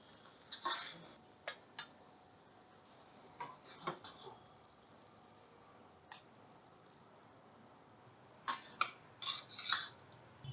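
Cooked brinjal curry spooned from a pan into another bowl, with a few clinks of metal utensils against the dishes, scattered quietly through the clip and clustered near the end.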